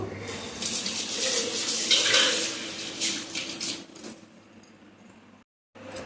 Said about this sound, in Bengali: এরপর কড়াইটা ধুয়ে নেব